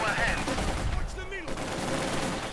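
Submachine gun fire from conscript infantry rattles in a brief WWII strategy game skirmish, with fast bursts under a voice.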